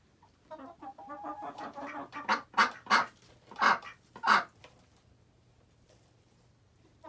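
Chickens cluck in a run of bursts, with several louder calls close by, in a backyard coop where ducks were recently moved in nearby; a steady low hum sits underneath.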